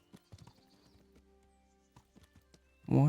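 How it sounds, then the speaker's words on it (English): A horse's hooves clop slowly and sparsely in Kingdom Come: Deliverance, a few soft, scattered steps and then a sudden louder burst at the very end. "Why is there a horse here?"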